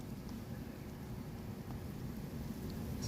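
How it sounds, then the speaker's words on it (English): Strong wind roars steadily through a nighttime snowstorm, a dense continuous rush with no break for its whole length. "Crazy wind and snow tonight,"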